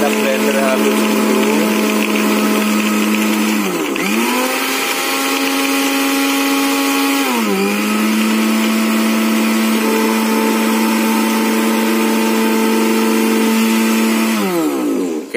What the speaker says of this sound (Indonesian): kita blender halus dulu.